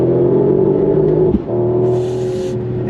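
A 2024 Mercedes-AMG GT 63 Coupe engine, loud and close, drones steadily at high revs, breaks briefly for a gear shift, then pulls again at a slightly lower pitch with no one talking.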